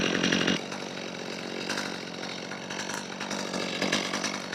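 Chainsaw cutting through deadfall on a wooded ATV trail, a steady buzzing drone with a louder burst at the start, running alone without talk.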